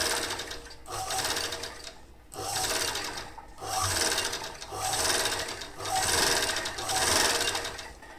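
An interlock overlock sewing machine stitches in repeated bursts of whirring, each run lasting about a second with short pauses between, steady and close with no voices.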